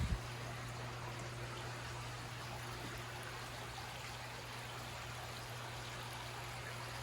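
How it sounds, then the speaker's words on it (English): A creek flows steadily behind a cabin in Pigeon Forge, Tennessee, giving a continuous, even rushing and trickling wash of water. It stays moderately close and unbroken throughout, with no voices. "you can just hear the stream in the background"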